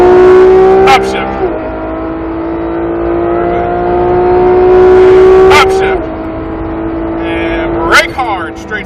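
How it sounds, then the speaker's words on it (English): A Porsche 911 GT3 RS engine drones loudly on a race track, its pitch climbing steadily through long pulls, with quick drops at shifts and a brief burst of tire noise near the end. "start to squeeze onto that gas, build the throttle"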